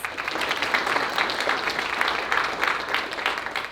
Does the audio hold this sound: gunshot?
no